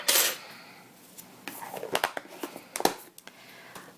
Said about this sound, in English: I can just tap the excess powder right back into the plastic container afterwards